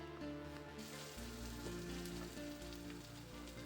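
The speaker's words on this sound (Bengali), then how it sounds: "মশলাগুলো একটু সুন্দর করে ভাজা ভাজা করে নিতে হবে।" Ground spices sizzling steadily in hot oil with ginger-garlic paste and turmeric, a continuous close frying crackle with no talk, a soft tonal hum running underneath.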